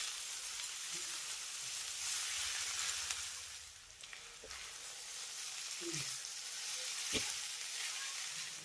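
Homemade chowmein noodles with pepper powder and tomato ketchup frying in a pan, a steady close sizzle and hiss with occasional soft stirring scrapes and taps throughout.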